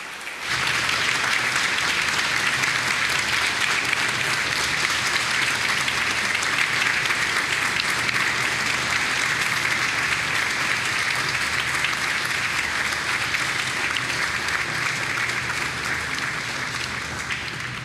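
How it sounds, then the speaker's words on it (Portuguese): Sustained audience applause for twelve women honored at a formal ceremonial session, steady dense clapping from a large crowd that holds evenly for the whole stretch. "uma salva de palmas às 12 homenageadas desse dia"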